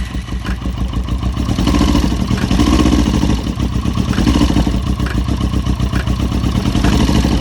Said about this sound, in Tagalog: okay yung makina kapag binobomba